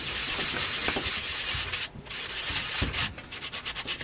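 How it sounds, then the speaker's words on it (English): Steady, close rubbing strokes of a sanding block scrape across a sticker in a continuous gritty rhythm, pausing briefly before resuming. "I just need my sanding block here. I just want to rough up this sticker a little bit."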